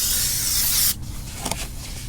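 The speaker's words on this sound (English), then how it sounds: "I'm just gonna clean them all off with brake clean" Brake cleaner sprays from a can onto the rear brake parts of a RAM 1500 pickup, a loud close hiss lasting about a second before cutting off, followed by faint dripping and rustle.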